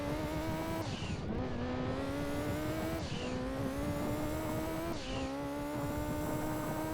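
A rally car in Gran Turismo 2 drives fast on a dirt surface, its engine revving in repeated rising pulls with shifts between them, a loud continuous drone with a gritty hiss from the loose ground.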